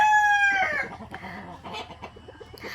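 A rooster's crow trails off, followed by a chorus of chickens clucking and murmuring nearby in short, busy bursts.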